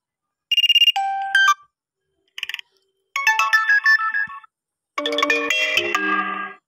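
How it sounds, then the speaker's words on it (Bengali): A WhatsApp notification tone played on a phone, several short bright chiming melodic phrases with silent gaps between them, loud and clean, ending in a fuller, denser jingle. "এখন থেকে যদি আমার এখানে কোনো এসএমএসে মেসেজ ঢুকে, তাহলে এই আওয়াজটি করবে"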